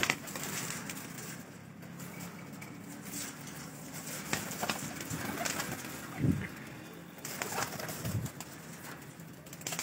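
Rampuri pigeons coo on a rooftop loft, with low, throaty coos rising now and then over soft shuffling and faint background noise.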